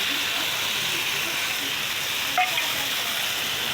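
Fish dropped into a hot pan with a little water and spices, giving a steady broadband sizzle and hiss throughout, close and even, with a brief clink partway through.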